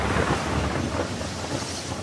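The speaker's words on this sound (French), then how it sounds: "La pluie est sans fin." Steady, dense rain storm in an animated Noah's Ark story, a loud continuous wash of noise with no breaks and no voices.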